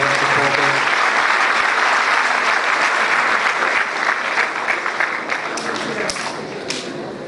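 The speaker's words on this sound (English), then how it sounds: "A big round of applause for our dignitaries on the dais" Loud, sustained applause from an audience at an inaugural ceremony, honouring dignitaries on the dais; dense clapping holds steady and thins slightly toward the end, with scattered sharper claps and thumps.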